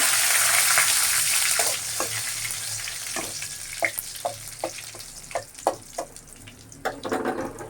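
Dry red chillies torn into hot oil with kalonji crackle and sizzle close up, a broad hiss at first that settles into scattered sharp pops and spits.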